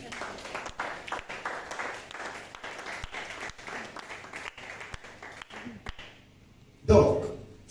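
A church congregation applauds the Lord with steady, continuous clapping under a murmur of voices, ending in a brief louder swell of cheering near the close.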